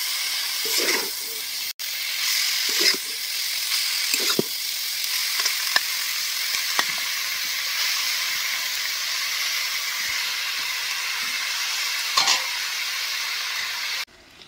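Washed cabbage frying in hot oil in a pan, a steady loud sizzle and hiss with occasional scraping stir strokes at irregular intervals, no talking.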